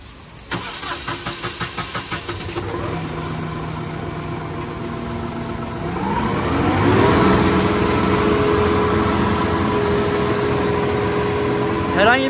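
A Hangcha forklift's diesel engine, fitted with a DPF delete emulator, cranks in a quick run of rhythmic pulses, catches and settles into a steady idle, then revs up and holds a loud, sustained higher pitch, with a voice speaking briefly.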